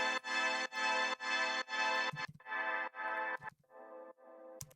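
A single sustained trumpet note with printed, sidechained reverb, rhythmically ducking in repeated pulses, then thinning and fading out under a low-pass filter; loud and close, no voices.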